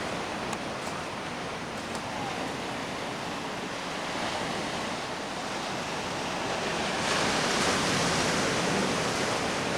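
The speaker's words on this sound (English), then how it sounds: "So we got these wonderful sandy beaches." Surf rolling onto a sandy beach on Sooke's western shores, a dense continuous wash of breaking waves with some wind rush, steady and full, no talk.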